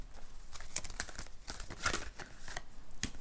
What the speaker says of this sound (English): I want to give these guys a shuffle.